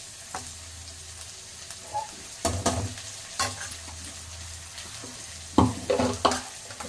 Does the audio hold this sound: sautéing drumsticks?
yes